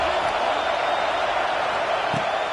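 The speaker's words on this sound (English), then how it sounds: "Listen to this crowd just shaking the girders of this place" A dense, continuous roar rises from a stadium crowd at a Louisville vs Alabama football game, loud and sustained as fans cheer to help the defense, with a commentator's voice partly over it.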